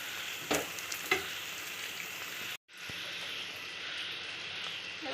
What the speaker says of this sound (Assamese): মছলাখিনি অকণ ভালকৈ ভাজি ল'ব লাগিব